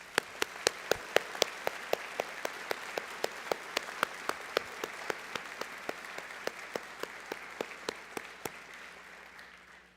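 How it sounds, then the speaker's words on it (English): An audience at a 2024 commencement ceremony applauds the graduate staff, a soft, steady wash of distant clapping with a few nearer sharp claps standing out at a regular pace. "Please join me in giving them a round of applause."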